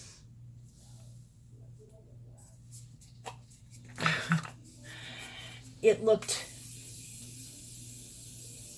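Morphe makeup setting spray gives two short hissing bursts, close by, over a quiet room with a few brief spoken words.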